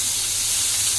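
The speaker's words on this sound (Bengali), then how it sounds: "ভাজবো, আদা রসুন বাটা দেবো।" Ginger-garlic paste fries in hot oil for hilsa pulao, giving a loud, steady, hissing sizzle throughout.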